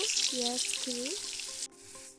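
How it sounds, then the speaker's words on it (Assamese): Bay leaves sizzling in hot oil at the start of a mushroom dish: a steady bright hiss of frying, near and moderately loud, with someone speaking over it, then a sudden drop to a quieter sizzle. "এয়া তেলত মই দিছোঁ তেজপাত"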